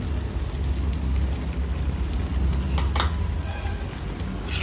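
Chicken keema sizzles steadily in a pan just after yogurt is stirred in, with a continuous loud frying hiss and occasional scraping stir strokes, no talking.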